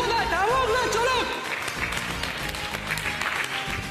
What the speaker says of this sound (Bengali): আরে হাততালি থামছে কোথায়?